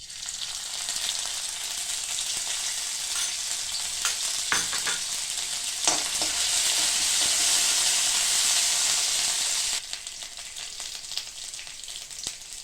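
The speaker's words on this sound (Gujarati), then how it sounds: "હવે એમાં આપણે જીરું સહેજ તતડી જાય એટલે આદુ મરચાં નાખશું." Cumin seeds, ginger and green chilies sizzle steadily in hot oil for an aloo paratha filling, a loud, continuous close-up crackle with occasional stirring clinks that eases slightly near the end, with no talking.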